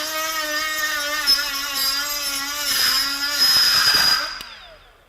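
A Milwaukee M12 FUEL 1/4-inch straight die grinder whines at steady high speed with a burr bit pressed into wax, giving a bright tonal scream that roughens midway and then spins down and fades near the end.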